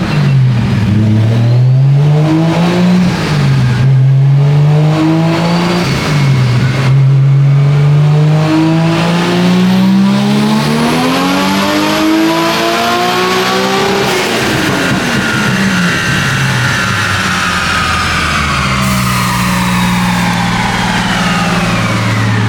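Nissan R34 Skyline M-spec Nür on a dyno with MoTeC tuning, engine revving in repeated pulls then one long sweep up through the rev range, loud and close, no talking.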